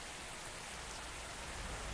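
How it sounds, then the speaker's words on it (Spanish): Rainfall in Bus Simulator Indonesia during a heavy cargo truck drive on an extreme map, a constant broad wash of pattering drops with no break and no talking. "ahora está cayendo la lluvia"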